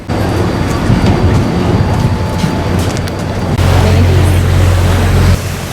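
Ferry ride across Charleston Harbor to Fort Sumter, a loud steady rumble of engine and water wash that deepens into a heavier low drone partway through, with no voices.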